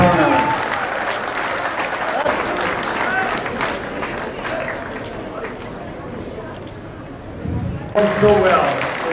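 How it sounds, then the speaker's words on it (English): Applause from an audience honoring the gold winner at the second Berman Tournament, a broad steady wash of clapping sustained throughout with a brief louder swell near the end, voices mixed in. "we have a big round of applause for the gold winner of the second Berman Tournament"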